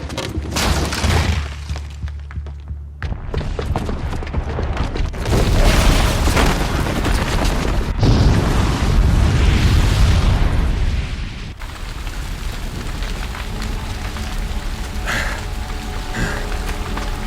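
A bomb booby trap detonating in Horizon Zero Dawn, with heavy booming blasts and crashing debris in loud rolling waves, then a lingering rumble and rain-like crackle as the noise settles.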